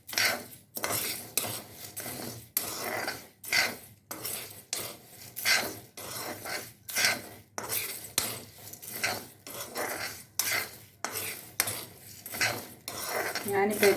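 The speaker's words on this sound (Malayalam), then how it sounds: "നല്ല തരിതരിപ്പോടെ ഇതൊന്ന് വറുത്തെടുക്കാം." Chili and coriander powder dry-roast in a pan over low heat while a metal spoon stirs and scrapes in a repeated rhythm of clinks and rasps, close and fairly loud.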